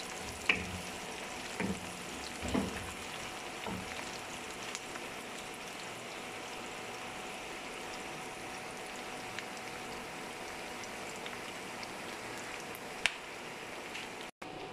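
A large onion frying in oil until light brown, a steady soft sizzle that continues without a break, with a few faint stirring taps near the start and no talking.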